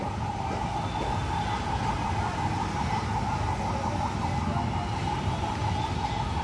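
Police car and ambulance sirens wail outside a house during a street blockade, a steady warbling tone held over constant traffic rumble for the whole stretch without a break.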